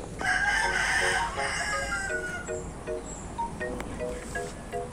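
A Black Australorp rooster crows loudly and close by, its long call filling the first seconds, followed by softer clucking and scattered outdoor rustle.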